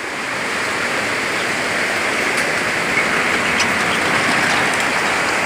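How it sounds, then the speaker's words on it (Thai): Heavy rain pours steadily, a dense hiss of water drumming on surfaces throughout, loud and close with no voices. "โอ้ฝนตกพี่น้อง"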